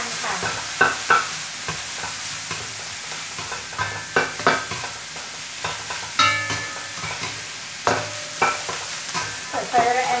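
Squid and shrimp stir-fry in a wok with soy sauce and sugar: a low sizzle under repeated, rhythmic scraping and tossing strokes, close and clear, with no talking.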